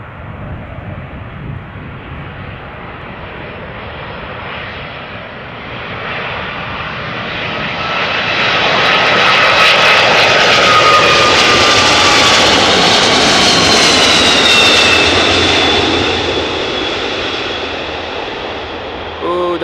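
Airliner jet engines roar at Amsterdam Schiphol, swelling from a distant rumble to a loud, screaming whine with a rising tone as the aircraft passes close, then slowly fading away over about twenty seconds.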